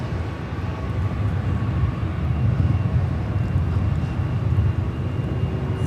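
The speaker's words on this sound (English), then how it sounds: "Yes, the Delta 767 looking like it's heading to the south side." A Delta Boeing 767-300ER airliner at LAX airport produces a steady, broad jet engine rumble that swells and eases slightly in a continuous low roar with no voices.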